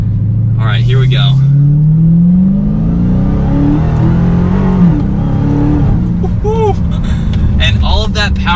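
Dodge SRT Hellcat under hard acceleration, a loud engine roar climbing in pitch through several gear shifts, with a person talking over it inside the cabin.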